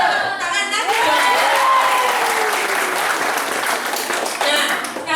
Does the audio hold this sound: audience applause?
yes